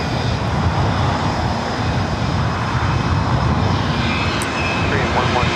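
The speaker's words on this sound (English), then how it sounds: "I'm going to get a shot of the KLM Orange Pride updated livery. It's about to touch down there on the south side." A KLM airliner in Orange Pride livery touches down on the south side runway at LAX, a steady broadband engine roar sustained throughout at moderate distance, with faint background voices.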